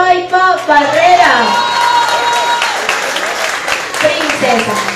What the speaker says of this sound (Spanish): Un fuerte aplauso para Shirley Natalia Paipa Barrera.